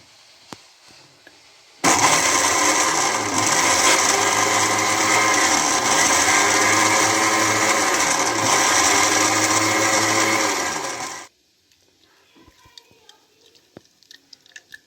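An electric juicer grinds carrots for about nine seconds, a loud, steady whirring roar with rhythmic churning pulses that starts and stops abruptly, followed by quieter clinking kitchen sounds.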